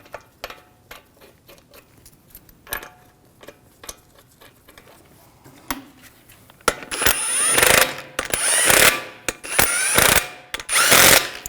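A ratchet tightens the lug bolts on a 2001-2009 Volvo S60 wheel during a front brake job: sparse, quiet clicks at first, then loud bursts of rapid ratcheting in several strokes with brief pauses between.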